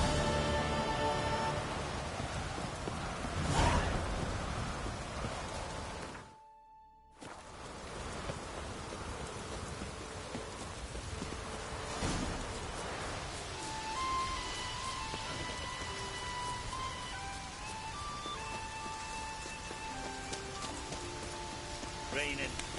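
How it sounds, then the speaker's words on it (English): Heavy rain in The Witcher 3 pours steadily in a dense hiss, briefly dropping out for a moment, with faint distant rumbles and some scattered tonal sounds under it. "Raining fucking buckets."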